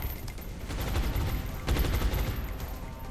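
Sustained suppressive gunfire in the XCOM Long War strategy game, a dense stream of rapid shots rolling on for several seconds and swelling louder near the midpoint, with no talk over it.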